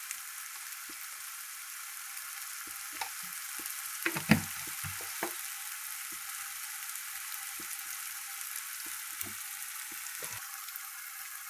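Mutton masala with home-ground red chili powder sizzles steadily in hot oil, a continuous close fry hiss broken by a few soft stirring knocks and scrapes.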